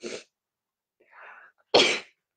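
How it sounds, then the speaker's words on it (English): A near sharp burst, a brief breathy intake, then a loud explosive sneeze, each separated by silence. "I'm going to sneeze"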